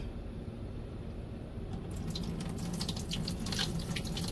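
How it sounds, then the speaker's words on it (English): Water with brine shrimp poured into a sieve, pouring steadily and then splashing harder, a continuous rushing flow with scattered drips and spatters, close by. "we're going to go ahead and pour it into the sieve"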